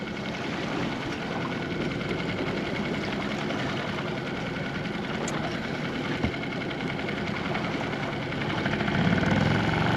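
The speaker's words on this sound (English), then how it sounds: "Outboard's running." An outboard motor on a small sailboat hums steadily while trolling at around four knots under sail, a continuous close engine drone with water and wind noise, no talk.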